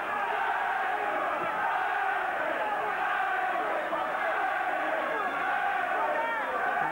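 Some 3,000 fans at a 1991 Hammersmith, London boxing match between Jeff Harding and Dennis Andries roar continuously, a loud, sustained crowd cheer with shouting voices blended in.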